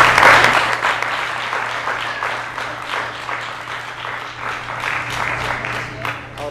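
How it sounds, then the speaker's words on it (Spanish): Audience applause after a talk, a dense wash of clapping hands that swells and thins slightly over several seconds, with some voices mixed in. "Bueno, otro aplauso entonces."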